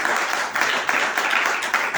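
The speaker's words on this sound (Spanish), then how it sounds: "Dame un aplauso a Jesús." A church congregation claps steadily, a dense, even patter of many hands that holds at moderate loudness without pause.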